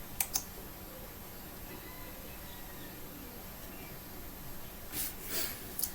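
A computer mouse clicks while a website is used: two quick clicks at the start and a few more near the end, crisp and close over faint room hiss.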